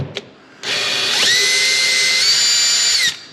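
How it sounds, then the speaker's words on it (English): A power drill whirs steadily at low speed for a few seconds after a brief click, its motor pitch rising slightly as it starts, then cutting off, while installing a radiator guard on a C8 Corvette. "Got a little drill here. We're gonna go real slow."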